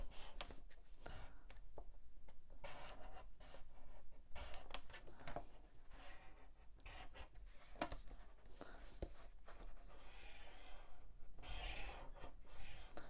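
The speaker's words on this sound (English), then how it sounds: "I'm scoring through the cardstock that's underneath" A scoring tool is drawn through a thin paper template and the cardstock beneath it on a scoreboard. It makes close, quiet, repeated scratchy strokes in short bursts.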